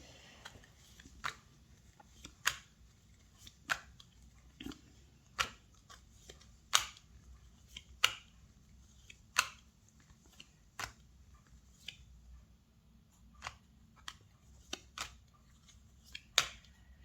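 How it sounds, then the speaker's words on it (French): Tarot cards drawn two at a time and laid out on a table, giving a series of sharp, quiet snaps and slaps spaced unevenly over a faint, steady room hiss, with no talking. "On va tirer les cartes deux par deux"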